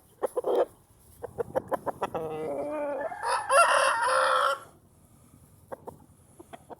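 A silver-laced rooster at a game bird show in the UK gives a loud, close crow, preceded and followed by rapid clucking notes from nearby fowl.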